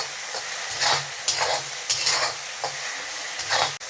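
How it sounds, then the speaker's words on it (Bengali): Cumin and chilli powder being fried and stirred in a pan for a hotel-style egg curry, with a soft sizzle under rhythmic scraping stirs that come in regular strokes, close and alone. "এখন আমি দিয়ে দিব 1 চামচ জিরার গুঁড়ো, দিয়ে দেবো 1 চামচ মরিচের গুঁড়ো। এখন আরেকটু ভেজে নিব।"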